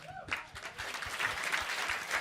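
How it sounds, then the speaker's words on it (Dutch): A brief, fairly faint round of applause from an event audience as a special guest is called onto the stage, a dense patter of clapping that begins after a short bit of talk and keeps going. "Applaus."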